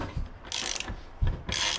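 A socket wrench ratchets in two quick bursts of rapid clicking while loosening the rear axle nut on a Lifan KPX 250 motorcycle, close and alone.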